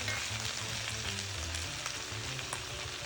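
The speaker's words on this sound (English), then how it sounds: "you just let it cook until you give it another stir, and just keep stirring it" A full pan of cabbage fries with a constant dense sizzle, close and even throughout, with faint stirring movement underneath; no voices.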